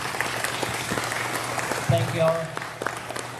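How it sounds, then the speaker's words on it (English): Applause from a banquet audience at a school sports awards dinner, a broad wash of clapping filling the room while a voice speaks over it near the end. "So if you could, please clap for them."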